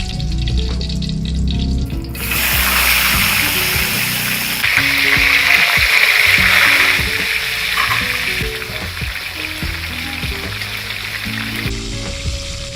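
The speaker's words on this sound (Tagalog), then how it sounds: "Prituhin lang ang isda hanggang sa maluto." Lapu-lapu fish frying in hot oil, a steady loud sizzle that swells as the fish goes in and then holds a continuous crackle alongside low background kitchen sounds.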